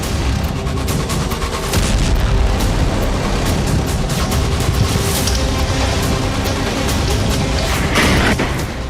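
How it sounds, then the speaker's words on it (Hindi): Explosions from Russian strikes on Ukrainian cities, from Kyiv to Sumi near the border: a dense, loud, continuous roar of booming blasts and crackling bursts that runs throughout without letup, with no voices heard. "राजधानी कीव से लेकर सीमा के करीब सूमी तक धमाके।"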